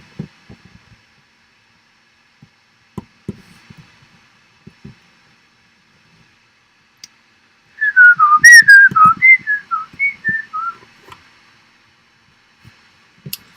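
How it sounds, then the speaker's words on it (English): A person whistles a short wavering tune for a few seconds midway through, loud and close, with scattered soft clicks and taps before and after. "Sorry if you don't like my whistling."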